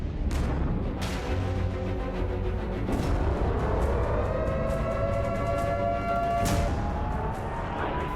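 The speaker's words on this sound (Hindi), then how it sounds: "तेहरान में धमाके का शोर सुना तो इजराइल में सायरन गूंजा" An air raid siren sounds in Israel during the Iran–Israel war, a loud wailing tone that rises and holds steadily while several sharp, booming bangs strike over a constant rumbling background.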